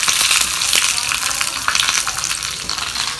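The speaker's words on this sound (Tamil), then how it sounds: "தாளிப்பு போட்டு பட்டை மிளகா கருவேப்பிலை பண்ணிக்கிறீங்க" A tempering of cinnamon, dried chili and curry leaves fries hard in hot sesame oil, a loud, close, crackling sizzle with bursts of spitting throughout.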